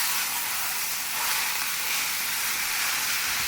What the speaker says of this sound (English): right here we have the ground beef, and we're gonna be putting it in the pan